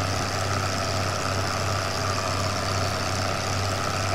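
A very old, hard-worked diesel tractor in Farming Simulator 2013 idles with a steady, low, even rumble. The hum holds unchanged throughout with no voices over it.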